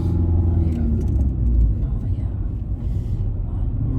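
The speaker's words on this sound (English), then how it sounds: "So car is making sound." A car being driven on a road during a driving lesson, with a steady, loud low engine and road rumble throughout and faint talking underneath.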